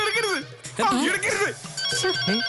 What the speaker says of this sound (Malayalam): ആ റിംഗ് ടോൺ കേട്ടാ അറിയാം.